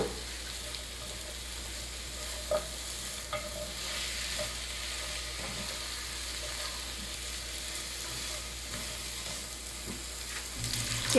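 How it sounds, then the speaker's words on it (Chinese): Onion and pumpkin slices being stir-fried in a pan, a soft, even sizzle with occasional light knocks of a spatula, fairly quiet and steady. "再放入南瓜片，继续翻炒几下"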